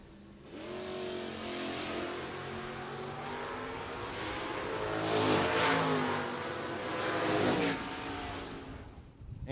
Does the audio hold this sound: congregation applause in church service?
no